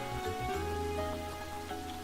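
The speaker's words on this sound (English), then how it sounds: "Just adding rain makes everything seem so much more intense." Steady rain patters in the CrossCode video game, a soft continuous hiss over a low background music bed, with no talking.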